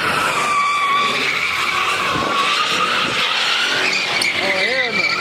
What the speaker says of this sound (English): they're doing some ratchet ass donuts right here